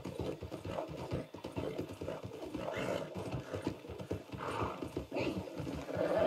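Horse hooves clip-clop amid dense game noise in Red Dead Redemption 2, with no speech.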